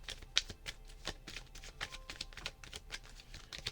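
A deck of tarot cards being shuffled close by, a quiet run of soft riffling flicks and light slaps in an uneven rhythm, with no talking.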